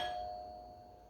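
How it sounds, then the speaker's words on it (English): A single doorbell chime rings once during a picture-book read-aloud, a clear bright tone that decays over about a second with no voices over it. "as the doorbell rang."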